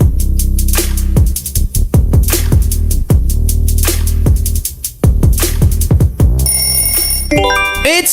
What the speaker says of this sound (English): It's Taco Bell!